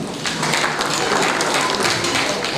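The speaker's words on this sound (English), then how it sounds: "Clap for yourself." Steady, dense applause from an audience at a United Nations peace association investiture ceremony, loud and close, sustained clapping throughout with a faint voice underneath.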